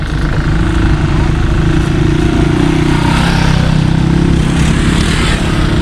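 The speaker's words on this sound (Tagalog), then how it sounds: "So mga motor oh." Motorcycles on a rough rural bypass road in Quezon, Philippines, drone loudly and close, a steady rumbling engine roar that swells slightly as they pass, with no clear talk.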